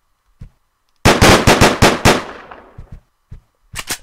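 Gunshots in the video game Deadbolt, a rapid burst of about six loud, sharp shots fired in quick succession, then a few scattered single pops and a final short cluster.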